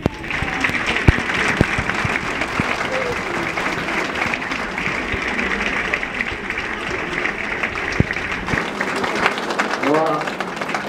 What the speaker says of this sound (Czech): Takže prosím vás potleskej mu.